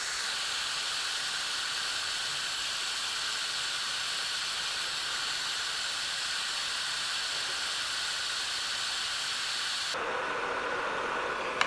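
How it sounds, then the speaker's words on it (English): Solder melting under a hot soldering iron while joining two wires with a soldering connector gives a steady, close hiss throughout, changing character briefly near the end. "Yeah, the solder's now melting."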